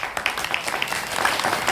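A crowd at a devotional gathering at Gahininath Gad claps in a dense, continuous round of applause, close and moderately loud for under two seconds.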